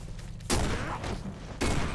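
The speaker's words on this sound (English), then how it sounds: "Why did I shoot him? I didn't need to fire the weapon." Two sharp gunshots from a weapon in Condemned: Criminal Origins, loud and close, about a second apart, each followed by a short decaying tail over a low background hum.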